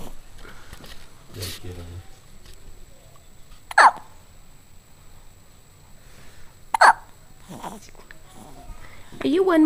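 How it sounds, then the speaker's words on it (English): A one-month-old baby hiccups three times at spaced intervals. The hiccups are short, sharp and close-up, with quiet room sound and a little soft vocal noise between them. "You got the hiccups."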